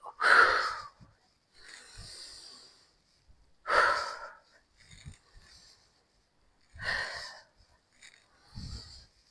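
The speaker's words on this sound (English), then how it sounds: "Let's just do a few big deep breaths." Deep breathing between dumbbell exercises in a full-body HIIT workout: four slow, close, audible inhale-exhale cycles with long gaps, each breath a loud airy rush followed by a softer release.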